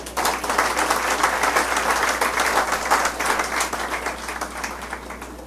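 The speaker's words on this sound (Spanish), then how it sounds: "Denle un aplauso al Señor." A church congregation claps together in a warm, steady burst of applause, moderately close with individual claps audible throughout.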